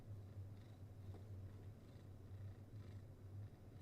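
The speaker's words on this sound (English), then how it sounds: "The purr box is just going." A cat purrs softly and steadily at close range, a low rhythmic rumble pulsing with its breaths in an otherwise quiet room.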